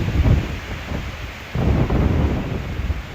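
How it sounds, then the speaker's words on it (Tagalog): Strong wind in an open rice field roars and buffets the microphone in heavy gusts, with a rough low rumble that surges louder halfway through. No one speaks. "Grabing hangin to."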